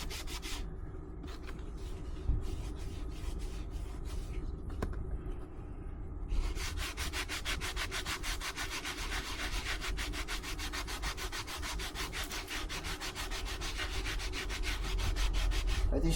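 Steady hand scrubbing of stubborn, baked-on brake dust on aluminum wheels, a continuous close rasping rub with rhythmic strokes that grows faster and more intense partway through, with no talk.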